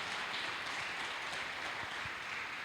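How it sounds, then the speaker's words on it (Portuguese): Steady applause from a church congregation at a Portuguese-language worship service, a dense, even wash of clapping that continues without a break and sounds moderately distant. "Vamos dar uma salva de palmas para esse Deus maravilhoso."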